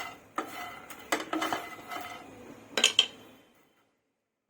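Makhana (fox nuts) are stirred as they dry-roast in a pan, giving a few bursts of rattling and scraping against the metal that fade into near silence. No one talks.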